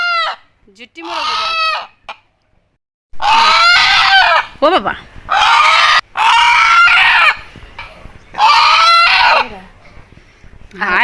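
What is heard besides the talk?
rooster crowing and clucking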